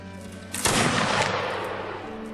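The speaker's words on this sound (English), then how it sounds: "He's firing the cannon." A single loud cannon blast in the Mount and Blade Warband Napoleonic Wars game, a sharp boom that swells suddenly and then trails off into a long rumbling decay over steady low background hum.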